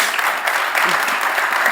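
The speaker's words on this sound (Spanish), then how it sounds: "Pues yo creo que le podéis dar un aplauso, que se lo mereció." Brief, dense applause from an audience after a speaker's talk on cybersecurity regulation, steady clapping for under two seconds.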